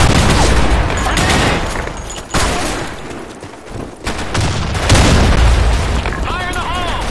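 Grenade blasts in a video game boom loudly over a chaotic mix of gunfire and shouted voices, with a brief lull before another heavy burst and more explosions rolling in.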